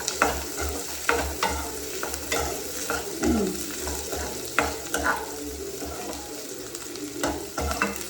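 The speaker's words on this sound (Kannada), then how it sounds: "ಕ್ಯಾಶ್ಯೂಸ್ ಹಾಕ್ಕೊಂಡು ಚೆನ್ನಾಗಿ ಫ್ರೈ ಮಾಡ್ಕೊಳ್ಳೋಣ." Cashews frying in oil in a pan for an egg curry, with a steady sizzle and repeated scraping stirs of a spoon against the pan, close and with no talking.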